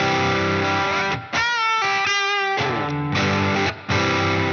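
A Fender Custom Shop 1960 Stratocaster electric guitar plays sustained, distorted chords and notes, loud and close, with short breaks between phrases and no talking.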